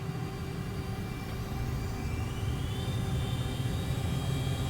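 An A-10C Thunderbolt in a flight simulator spools up at full throttle for takeoff, a steady loud jet whine and roar with rising tonal whistles, continuous and building slightly over several seconds.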